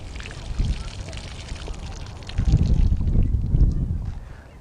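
Water poured onto soil around a newly planted bare-root tree, a steady splashing trickle that swells louder in the second half, close by with a low rushing body.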